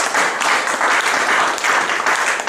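A church congregation claps during a worship service, a dense, loud, steady applause that carries through without a break.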